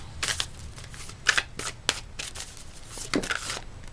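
Tarot cards are shuffled and drawn by hand during a pick-a-card reading, giving a close run of crisp, irregular riffles and snaps over about four seconds with no talking.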